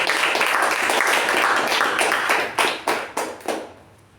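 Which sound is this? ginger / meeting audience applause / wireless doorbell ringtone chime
meeting audience applause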